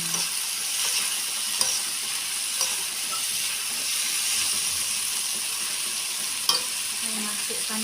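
Salted fish sizzles and spits in a hot pan for a spicy sambal, a steady bright frying hiss with occasional pops and the light scrape of stirring.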